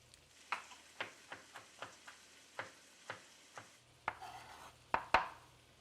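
Garlic cloves smashed on a cutting board in a home kitchen while elk steak and mushrooms cook nearby, giving a series of sharp, close knocks in an uneven rhythm, with a few louder whacks at the end.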